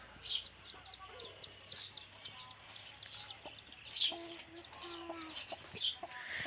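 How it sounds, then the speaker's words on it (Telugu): Chicks and hens in a farm field: a steady stream of high, rapid chick peeps with occasional low hen clucks, fairly faint and close, with no talking. "కోడి పిల్లలు"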